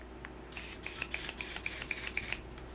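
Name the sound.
face mist spray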